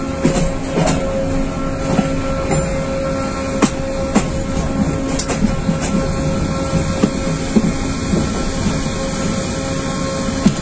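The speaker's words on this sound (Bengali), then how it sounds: "অনেক লম্বা একটা ট্রেন।" A long mail train travelling from Chittagong to Dhaka rumbles steadily and loudly, with a continuous drone broken by repeated sharp clicks and rattles of wheels over track joints, and no voices.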